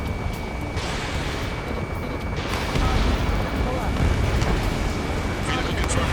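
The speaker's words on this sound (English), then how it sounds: "Strider 3 launching missile." Missile launch from an F-15C in Ace Combat 7, mission 16 Last Hope: a loud, continuous jet-and-rocket roar swells and holds, with radio voices talking over it.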